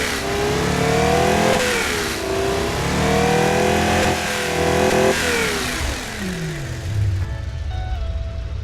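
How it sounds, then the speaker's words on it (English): A smooth-running Toyota 1GZ-FE V12 engine with a steady, loud, close hum that gently rises and falls in revs, with no voices. "Look at the engine running so smoothly and so comfortably."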